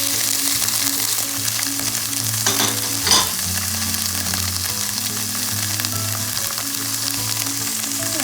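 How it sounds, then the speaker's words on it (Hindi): Onions sizzle steadily in hot oil in a pan before vegetables go in for chicken bread, with a soft stirring scrape partway through and no talk. "ये हल्का सा सौते हो चुका है, अब इसमें हम अपनी वेजिटेबल्स डाल देंगे"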